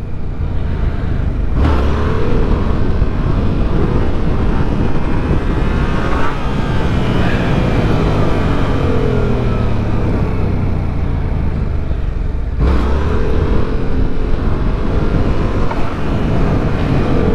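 Yamaha MT-07 motorcycle engine held at steady high revs during a wheelie, loud and continuous with rising and falling pitch sweeps, heavy wind rumble, and brief gear-shift breaks near the start and end.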